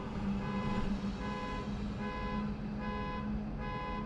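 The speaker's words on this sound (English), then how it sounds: "Somebody in the far distance has left their car alarm to just go on alarming." A far-off car alarm beeps in repeated tonal pulses, faint and steady under a dense wash of ambient outdoor noise.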